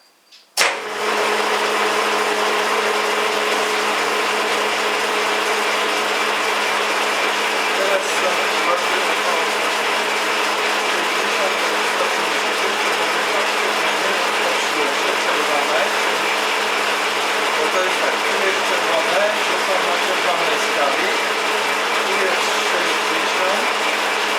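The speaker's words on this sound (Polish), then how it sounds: "maszyna dość cicho pracuje jak na swój wiek" An old ALG 200 milling machine with a 2.6 kW motor starts up with a brief clunk, then runs with a steady, even mechanical hum and whir, constant throughout with no talking.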